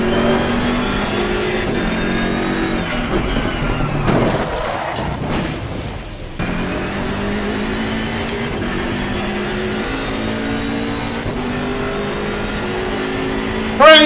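GT3 race cars, a Porsche and a BMW M4, battle at Monza in Assetto Corsa Competizione, engines droning and revving steadily with shifting pitch as the cars dive into a corner, loud and continuous, with a brief chaotic burst in the middle.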